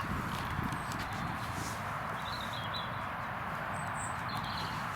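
Horses walk with soft, steady clip-clop hoofbeats at a stud farm, heard outdoors amid a constant background rumble with faint bird chirps.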